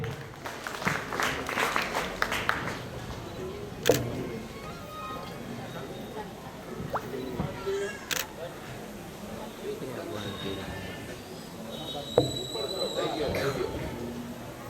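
Audience applause rises from a crowd at a Viksit Bharat Sankalp Yatra gathering at a primary school in Sardarnagar, Bhavnagar, a steady broadband patter with a few sharp peaks and some voices mixed in.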